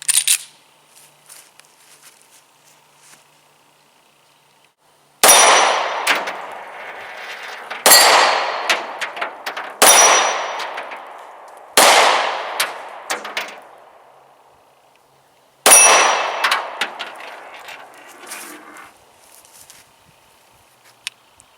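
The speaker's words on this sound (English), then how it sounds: "Blow up a few more and shoot some more." Pistol shots from a Taurus 709 Slim 9mm ringing off steel targets outdoors, a burst of sharp shots with metallic clangs and decaying rings, then several spaced single shots over about twenty seconds, loud and close.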